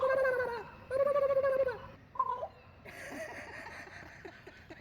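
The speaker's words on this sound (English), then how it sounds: "There's the turkey." Wild turkey gobbling outdoors along a highway in Juneau, Alaska: two loud, rapid rattling calls open the clip, followed by a brief quieter call and softer, fainter bird sounds trailing off.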